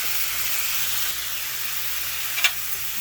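Chicken sears in a pan, browning lightly before slow cooking in a crock pot, giving a steady, even sizzle with a brief louder crackle near the end and no talking.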